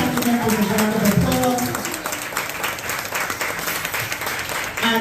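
An audience at a Zeta Phi Beta Sorority brunch in a Monrovia, Liberia hotel breaks into sustained applause, dense clapping that fills the room, with a voice briefly audible near the start.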